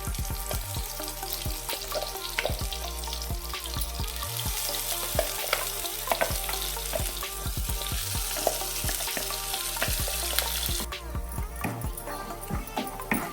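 Ground masala paste for bakery-style channa masala hits hot oil in a pan, a continuous sizzle broken by frequent sharp clicks and knocks of a spoon stirring against the vessel.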